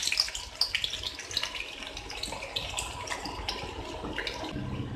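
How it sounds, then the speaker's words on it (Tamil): Sliced onions deep frying in hot oil give off a steady crackling, bubbling sizzle with scattered sharp pops, fairly quiet and close, with no voices. "வெங்காயத்தை டீப் ஃப்ரை பண்ணி எடுக்கிறதுக்காக எண்ணெய் சுடு வச்சுருக்கேன்"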